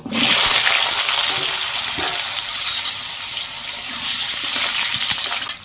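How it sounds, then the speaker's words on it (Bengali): Jackfruit pieces fry in hot mustard oil in a wok with a loud, continuous sizzle and crackle that holds steady for several seconds before cutting off abruptly, with no voices. "তো তেলটা আমার গরম হয়ে গেছে, এর মধ্যে আমি এঁচোড়টা ভেজে নেব।"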